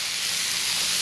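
Thin-sliced cheesesteak meat frying on a hot griddle produces a dense, steady sizzling hiss, loud and close throughout with no voices.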